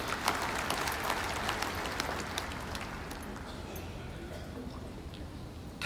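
A convocation audience claps in a burst of applause that starts strong and gradually thins and fades toward the end, with a faint voice underneath.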